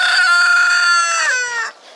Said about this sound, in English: There's Mr. Rooster out.